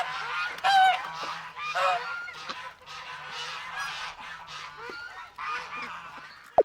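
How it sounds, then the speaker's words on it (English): Geese honking on a farm, a mother goose with her gosling, a run of loud, close nasal honks repeating in irregular bursts, with a soft low hum beneath. "This is gosling with goose mom."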